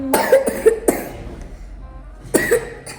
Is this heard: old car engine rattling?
no